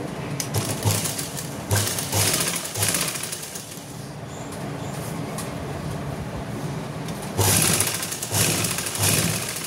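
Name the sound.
sewing machine stitching a coat collar along the buckram edge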